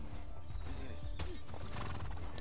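A horse in the War of the Roses video game gives a short whinny over the clip-clop of hooves, with brief sharp combat sounds mixed in.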